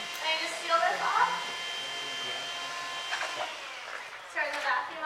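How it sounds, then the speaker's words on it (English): Vacuum pump drawing air into a sample bag for air monitoring, a steady mechanical whine and hum running throughout, with a few louder bursts and people speaking over it. "Turn the vacuum off."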